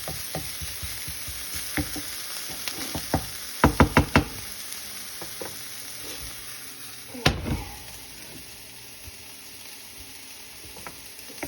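Chopped onion sautés gently in a pan for refried beans, a soft steady sizzle broken by a quick cluster of utensil knocks and scrapes, then a single louder tap before the frying settles quietly.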